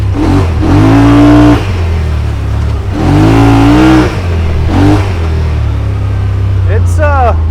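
A 2021 Yamaha Wolverine RMAX2 1000 Limited Edition side-by-side engine revs hard in repeated loud surges that climb and fall, close and dominant, with a voice talking over it.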